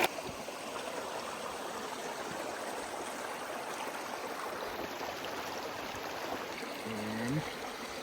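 Water runs through a new camping water filter beside an alpine lake, a steady, close rushing trickle that holds constant throughout with a brief low gurgle near the end.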